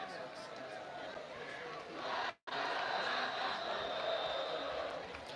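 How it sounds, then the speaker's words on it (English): Home crowd at an Oakdale high school football game, Linganore vs Oakdale, cheering and murmuring as a broad, steady wash of voices from the stands. A brief dropout falls midway, then the crowd continues at the same level. "Now you're starting to hear the Oakdale crowd get into it."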